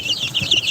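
Backyard laying hens cluck softly and continuously at close range, a steady low murmur of several birds with no voices over it.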